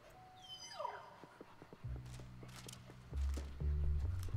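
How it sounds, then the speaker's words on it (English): A puppy ghost in Luigi's Mansion 3 whimpers in a few high sliding yelps, followed by soft game footsteps and low thuds, fairly quiet with no talk. "Where are you going, puppy?"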